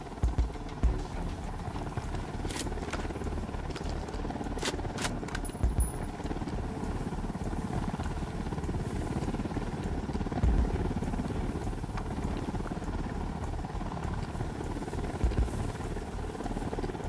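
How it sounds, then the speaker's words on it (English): In the Ghost Recon Wildlands video game, a helicopter makes a steady, fairly loud rotor drone that holds across the whole span over a low outdoor rumble. A few brief clicks and blips come through near the start. "Chopper's approaching."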